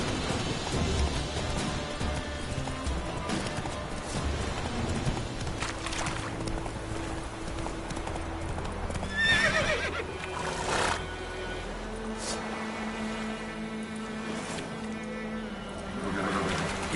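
Roach, the horse in The Witcher video game, whinnies and snorts over rhythmic galloping hoofbeats, with game music and ambient effects layered underneath for the whole stretch.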